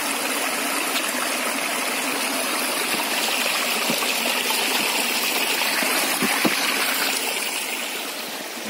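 A small, cold mountain trout stream rushes and gurgles in a steady, full wash of water up close, with no voices.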